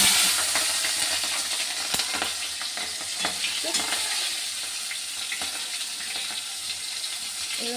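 Green chilies sizzle and crackle as they fry in hot oil for a fish curry, with a steady dense hiss, occasional stirring clatters, and no talking.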